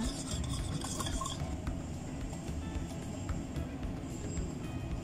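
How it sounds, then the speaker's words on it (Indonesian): A utensil scrapes and clinks steadily against a pan while stirring stir-fried mustard greens and pork, a continuous close stirring sound over low background rumble, with no voices. "Aduk lagi sampai merata."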